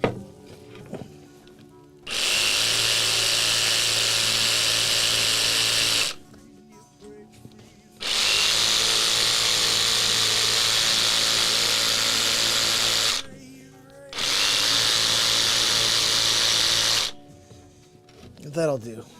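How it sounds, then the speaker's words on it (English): Power sander working wood on a handmade mandolin build, three long, loud, steady whirring bursts of several seconds each, separated by short pauses in a workshop. "Sand that down,"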